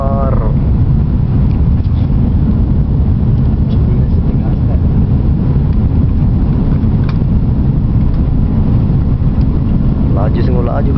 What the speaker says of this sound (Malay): Laju sungguh laju kapal terbang ini. Makin laju.